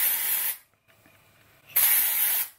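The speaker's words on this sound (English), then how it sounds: "So this is the first dry shampoo application" Two long, loud bursts of aerosol dry shampoo hissing onto greasy, fine hair, separated by a short quieter pause with faint rustling of hair being sectioned and flipped.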